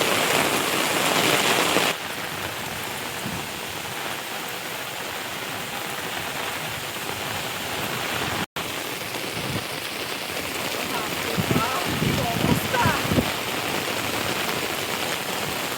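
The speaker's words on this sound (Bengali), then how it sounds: "আজকে যা বৃষ্টি হচ্ছে, এতে একদম মাঠ ঘাট সব ধুয়ে যাবে।" Heavy rain in the Sundarbans pours steadily in a dense, loud hiss, with brief drops in level and faint voices underneath.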